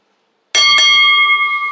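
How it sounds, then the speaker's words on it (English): A wrestling ring bell at a women's single match on ECW sounds once, sharp and loud after a moment of silence, its bright metallic tone ringing on and slowly decaying. "All right, the bell ringing."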